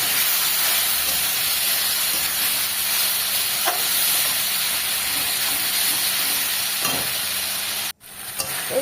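Loud, steady hiss and sizzle from water added to spiced green jackfruit curry cooking in a hot pan, continuous and close, with faint stirring clicks and a brief drop near the end.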